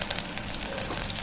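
Curry leaves drop into hot ghee already frying cumin, mustard seeds, peanuts, urad dal, chana dal and pepper for khara pongal, giving a dense, close sizzle with quick crackles throughout.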